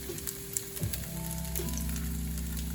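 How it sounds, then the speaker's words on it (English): Cubes fry in a hot pan with a constant, fine crackling sizzle and a few faint scrapes, fairly quiet and without talk. "Ooh, listen to that sizzle."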